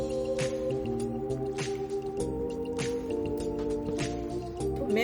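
A ladle scoops herb soup with salmon from a pot, giving soft wet squishes and drips in a loose, repeating rhythm over a steady tonal hum.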